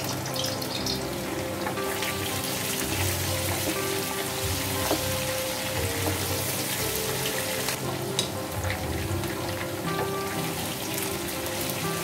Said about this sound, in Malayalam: അങ്ങനെ 2 സൈഡും നമുക്കിതൊന്ന് ഷാലോ ഫ്രൈ ചെയ്തെടുക്കാം